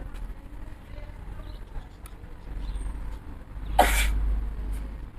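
A single short, sharp sneeze bursts out near the end over a quiet, murky room background.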